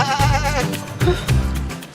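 A goat bleats loudly and close by in a wavering, quavering call, followed by shorter grunting bleats, alone without talk.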